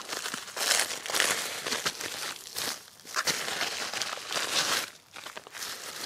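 Crinkly plastic packaging is pulled and torn open in irregular bursts of rustling and crumpling, close and fairly loud, with brief pauses between handfuls.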